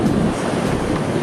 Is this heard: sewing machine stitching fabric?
no